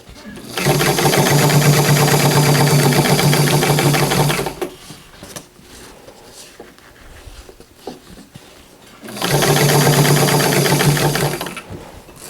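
A sewing machine stitching a skirt runs in two steady, close bursts of rapid mechanical chatter, with a quieter pause between them filled with handling noise and someone speaking.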